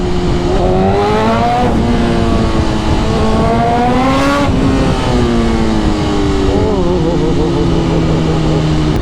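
A BMW motorcycle engine revs hard while riding in traffic, rising and falling in pitch through several throttle pulls, loud and close, with a steady road and wind rush beneath.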